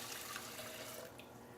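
Water poured into a pot for cooking wild rice, a steady close rush of liquid running for about a second and a half before easing slightly, with no talk.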